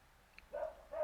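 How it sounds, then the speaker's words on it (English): Dogs bark a couple of times indoors at moderate distance, two short bursts separated by a pause, fairly faint. "Sorry, my dogs are distracting me right now."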